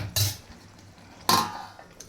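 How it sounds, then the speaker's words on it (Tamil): A lid set over a pan of egg curry gives two sharp metallic clanks about a second apart, close and loud against a quiet kitchen background, with no talking. "போட்டுட்டு திரும்பவும் வந்து ஒரு 2 செகண்ட்ஸ் மட்டும் மூடி வைங்க"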